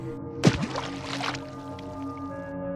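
A jaguar and a man tumble into a dark river in an audio drama, heard as one sudden splash that gurgles and settles into a low watery wash over a sustained musical backdrop.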